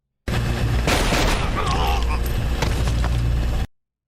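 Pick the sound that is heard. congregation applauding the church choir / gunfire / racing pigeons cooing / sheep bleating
gunfire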